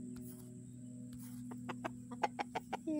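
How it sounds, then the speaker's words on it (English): Several short clucks from chickens and a rooster near the end, rising in a quick uneven series over a steady low hum. "Yeah, I think he's a rooster."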